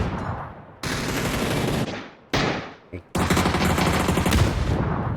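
Rapid bursts of automatic gunfire from the video game PUBG during a competitive esports match, loud and dense, broken by short gaps, with a single shot in the middle.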